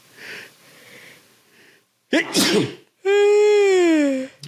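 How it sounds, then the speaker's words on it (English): A loud, sharp sneeze bursts out after some quiet sniffing, followed by a long, drawn-out yawn-like vocal sound. "I have to sneeze"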